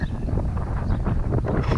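Steady, rough wind rushing and buffeting the microphone outdoors during a Sun Dolphin Boss 12 SS boat's first outing, loud and continuous with no voices.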